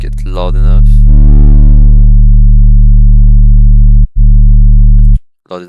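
A loud sub bass sine tone played in FL Studio, a deep steady hum held for several seconds with a brief dropout before it stops, clean with no voices.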